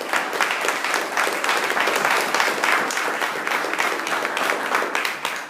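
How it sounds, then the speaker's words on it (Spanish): A church congregation applauds warmly for Mauricio, a dense, even wash of clapping that holds steady throughout without spoken words. "¿Cuántos dan un aplauso a Mauricio?"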